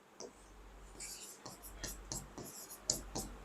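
Pen writing on paper for a simple accounting calculation, a series of short, close scratchy strokes in uneven rhythm with quiet breath between.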